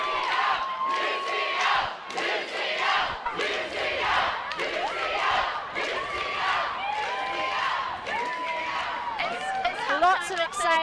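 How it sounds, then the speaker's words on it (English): Spectators at a London Varsity Series 2023 women's rugby match with UCL cheer and shout after a try, many overlapping excited voices rising and falling in bursts, close and loud, with whoops and calls over a busy crowd babble. "some noise in the crowd."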